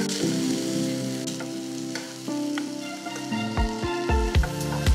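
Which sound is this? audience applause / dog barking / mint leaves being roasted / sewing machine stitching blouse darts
mint leaves being roasted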